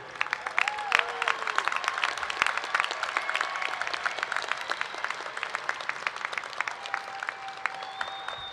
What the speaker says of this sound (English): let's really give it up for a big cheer and a big round of applause for everyone